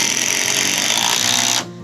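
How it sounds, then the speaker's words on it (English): Power drill whirring steadily while pre-drilling and driving screws into composite decking boards, a loud continuous motor whine that stops abruptly near the end. "I'm just going to pre-drill it, screw them down now"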